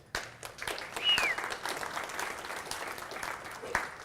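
Conference audience at a programming talk bursts into applause, a dense wash of hand claps that swells around the first second and then continues steadily at moderate volume for the rest.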